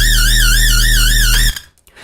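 Layered synth lead built from a sine wave with tube distortion, a loud sustained tone with steady wobbling vibrato and heavy low-end, held for about a second and a half before cutting off abruptly.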